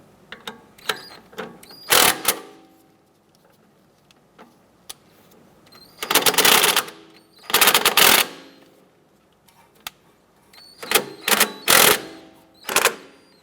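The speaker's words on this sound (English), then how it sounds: "Just going to switch over to our impact gun here to speed things up" An impact gun removing the lower strut bolt on a 2004-2008 Acura TL, loud rattling bursts of hammering in several separate runs with quiet gaps between.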